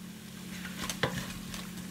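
Chicken curry with spices being stirred and cooked dry in a pan, a soft steady sizzle with scraping spoon strokes and one sharper knock near the middle, fairly close and moderately quiet, no voices.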